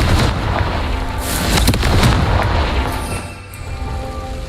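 A Confringo spell blast in Hogwarts Legacy, a heavy rumbling boom that swells and lingers with crackling debris, loud and close, without speech.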